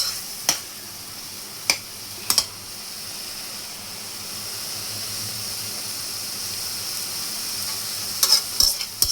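Egg curry ingredients sautéed and stirred in a pan: a constant soft sizzle with a few sharp scrapes and taps of the spatula, clustered near the start and again at the end.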